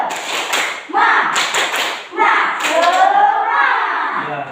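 Schoolchildren clapping the rhythmic PPK clap routine in a classroom, quick bursts of patterned hand claps and slaps mixed with their chanting voices, loud and close.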